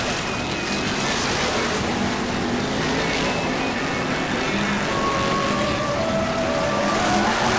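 BriSCA Formula 1 stock cars race around the Northampton oval, a dense continuous roar of engines with no let-up and a few rising engine tones passing through, loud and steady with no talk.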